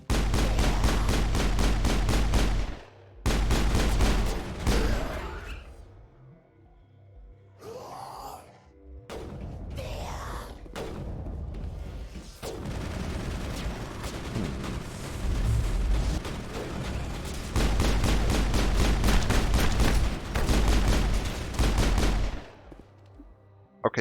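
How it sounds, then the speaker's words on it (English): Sniper rifle fire and other weapons in the Mass Effect 1 video game, with dense, loud bursts of gunfire and blasts, a few quieter gaps with single shots, then sustained heavy firing again. "Garrus's new sniper rifle is putting in some fine work here."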